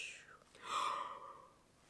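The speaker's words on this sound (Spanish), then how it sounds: "Esto es un bostezo." A single human yawn: a breathy, drawn-out exhale that swells and fades over about a second, close and fairly quiet.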